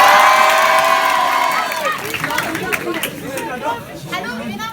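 A school audience at a Purim 2019 student show in Paris cheers and shouts. A loud burst of crowd whoops and children's yells fades into a dense, lively chatter of many voices.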